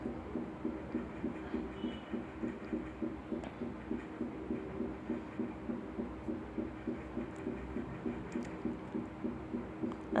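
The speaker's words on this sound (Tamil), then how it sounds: "அந்த சூட்டில் நல்லா ஒரு கொதி வருது." A lemon juice mixture for lemon rice boils in a pan, giving a steady rhythmic bubbling pulse that repeats evenly throughout at moderate, close volume.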